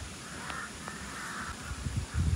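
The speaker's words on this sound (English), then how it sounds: "Guys, these crows are getting crazy." Crows calling at sunset in the tropical Philippines, a few short caws rising over low, steady wind-like rumble, fairly faint and distant with no talk.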